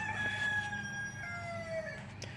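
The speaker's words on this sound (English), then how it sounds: "I'm gonna eat that rooster." A rooster crows nearby in a single drawn-out, wavering call that lasts about two seconds against faint background noise, with no one speaking.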